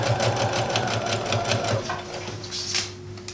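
A sewing machine stitching a skirt at a 3.5 stitch length hums with a fast, even needle rhythm, loud and close, then slows and stops partway, leaving softer mechanical clicks and a faint hum.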